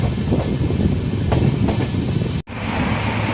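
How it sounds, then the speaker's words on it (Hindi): A Gandhinagar Capital–Varanasi superfast express train rolls along with a steady, loud rumble and rhythmic wheel clatter, broken by one brief dropout near the end. "हमारी ट्रेन ने डिपार्ट कर चुका है गांधीनगर कैपिटल से"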